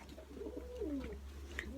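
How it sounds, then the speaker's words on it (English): A pet pigeon-type bird coos softly indoors, a few low rolling coo notes with a brief faint chirp near the end, close and gentle against a quiet background hum. "He's cooing."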